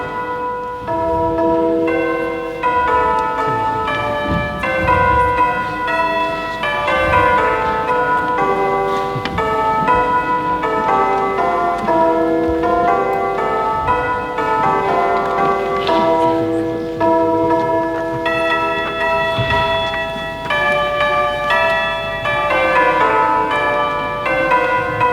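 Bell tones played by a computer-coded orchestra, a continuous sequence of ringing, overlapping bell notes forming a melody, loud and sustained with no talking.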